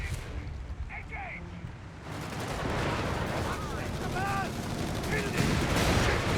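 Gunfire and grenade blasts from a Company of Heroes 3 battle crackle and thump almost continuously, building louder after the first couple of seconds, with scattered sharp bursts layered over a dense rumbling barrage.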